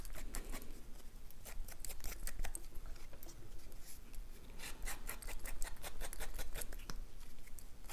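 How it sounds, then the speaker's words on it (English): Quick, crisp snips of scissors trimming a paper tag, repeated in an irregular rhythm at close range, with light rustling between the cuts. "A bit crooked here, so just a little bit with your scissors."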